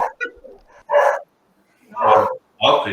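Dogs let out a few short, sharp barks and yips, loud and close, in quick separate bursts with brief silences between them.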